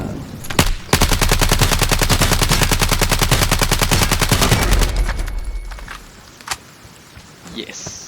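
Sustained rapid automatic gunfire in the shooter game LostLight: a steady burst of closely spaced, loud shots runs for about four seconds, followed by a few scattered single shots and quieter rumbling.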